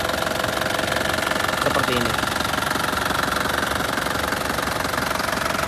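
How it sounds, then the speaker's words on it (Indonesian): A 2008 Isuzu Panther LS turbo diesel idles nearby with a steady, even knocking clatter, while someone talks briefly over the running engine. "Mesin khas diesel"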